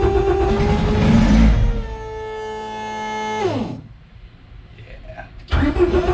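A car engine cranks and fires, then revs with a rising and falling whine before dropping low and roaring again near the end, loud and close, with some talk.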